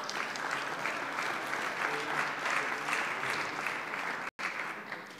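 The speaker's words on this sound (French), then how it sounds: "Je pense que vous pouvez effectivement les applaudir." Sustained applause from an audience at a French parliamentary session, dense, steady and fairly loud clapping that carries on throughout with one very brief dropout near the end.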